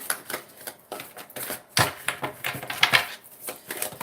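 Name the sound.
shuffling tarot cards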